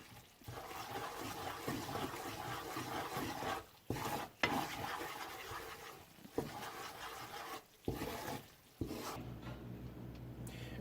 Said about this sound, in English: And you're just going to keep stirring it